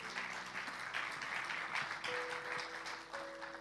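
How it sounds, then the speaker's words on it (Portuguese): Congregation applause during a church worship service: sustained, fairly distant group clapping with faint sustained music tones underneath. "Dê um aplauso bem forte ao Senhor."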